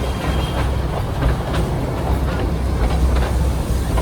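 Darjeeling toy train ride heading toward Ghum railway station, with steady rumbling wheels and rhythmic clicks on the rails, heard close from on board, continuous and loud without talk.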